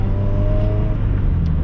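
A supercharged 1994 Acura Integra GSR JDM engine with a DC Sports exhaust runs loud and close, holding a steady, throaty drone with a faint rising whine, and no one speaks over it.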